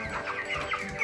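A 23-day-old Cobb 500 broiler chicken raised indoors clucks in short, close, repeated notes for about a second.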